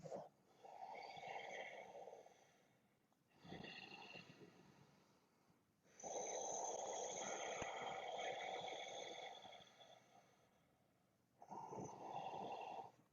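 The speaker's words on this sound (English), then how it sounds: "Exhaling through the constricted throat, breathing into it" Slow Ujjayi yoga breaths through a constricted throat, four long hissing, ocean-like breaths alternating inhale and exhale with short pauses between, close and fairly loud, no talking.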